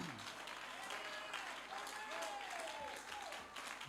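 Church congregation applauding at a worship gathering, steady dense clapping throughout, with a voice speaking over it.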